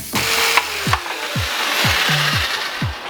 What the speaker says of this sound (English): So right now I'm just cutting it with the jigsaw.